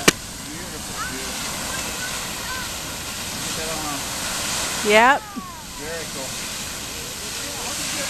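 Rocket and Grotto geysers erupting outdoors, a broad continuous roar of hissing steam and rushing water at steady loudness, with a brief spoken word and a short burst of wind noise partway through.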